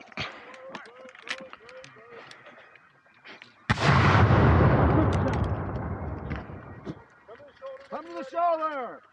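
Revolutionary War reenactors fire a loud musket volley at the Battle of Eutaw Springs, a single massive crack and rumbling roar that slowly decays, framed by shouted commands before and after.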